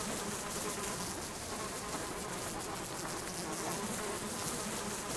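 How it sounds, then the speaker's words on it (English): Steady, dense buzzing of a swarm of bees in the survival video game Subsistence, continuous and close throughout with no pauses. "guys, we may die to these bees."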